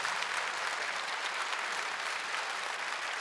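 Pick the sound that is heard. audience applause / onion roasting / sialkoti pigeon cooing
audience applause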